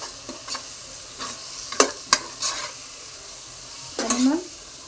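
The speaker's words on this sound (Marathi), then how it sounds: "आता हे सगळं एकजीव करून घ्यायचं" Egg biryani masala is stirred in a pan: soft sizzling under intermittent scraping strokes of a spoon, a handful of distinct clinks and scrapes spaced irregularly, ending with a longer scrape.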